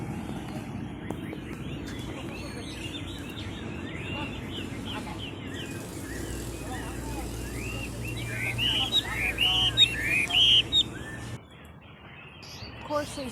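Caged birds at a bird park in Xishuangbanna chirp, whistle and trill in overlapping bursts that swell louder toward the end, with clucking fowl and people talking in the background.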